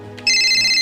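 A mobile phone ringtone bursts in loud and close after a brief quieter lead-in, then rings on as a steady electronic tone.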